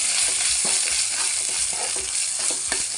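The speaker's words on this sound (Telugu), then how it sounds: "ఇప్పుడు ఇందులోకి అల్లం వెల్లిగడ్డ పేస్ట్ వేసుకుందాం. వేసుకొని కలుపుకుందాం." Ginger garlic paste frying in hot oil while being stirred in a pan for a small-fish curry, a dense close sizzle broken by regular spoon scrapes, no talking.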